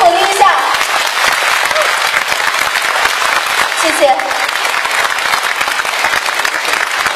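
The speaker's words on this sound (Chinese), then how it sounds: "掌声鼓励一下" An audience applauds at a public speaking event as a painting is unrolled for a photo. The clapping is loud and sustained throughout, with a brief spoken thanks over it.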